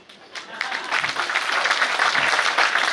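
An audience at a Gurjar poetry recital breaks into applause, clapping swelling from near silence into a dense, sustained ovation that stays loud to the end.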